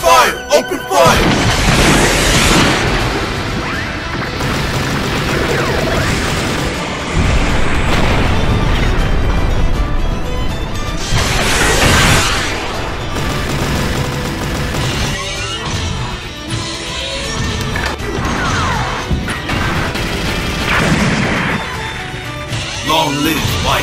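Gunfire and explosions in an animated Gundam mobile suit battle, loud continuous blasts and crashes layered over dramatic score, with shouted voices mixed in.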